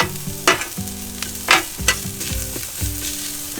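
About 1.5 ounces of shallots sizzle on a Blackstone griddle while boondocking in Colorado, a steady fry punctuated by several sharp spatula scrapes and stirs, close and fairly loud.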